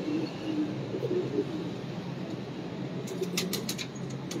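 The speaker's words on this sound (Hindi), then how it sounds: "ये दोस्तों सारे फिरोजपुरी कबूतर" Ferozpuri pigeons flap their wings and coo softly nearby, with a steady low rustling bed and brief bursts of wing clatter toward the end.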